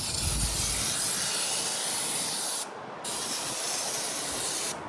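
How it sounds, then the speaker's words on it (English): A loud, continuous aerosol parts cleaner spray hisses up close on a Yamaha F25 outboard cowling, cutting out briefly for a moment before resuming. "I jumped up to spraying it down with some parts cleaner"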